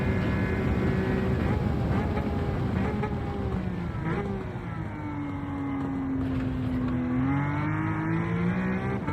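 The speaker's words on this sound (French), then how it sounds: "le problème c'est qu'elle est au rupteur tout le temps" In Gran Turismo 7, a racing car's engine is held at its rev limiter, giving a sustained, loud buzzing drone whose pitch holds steady, dips briefly and then climbs again.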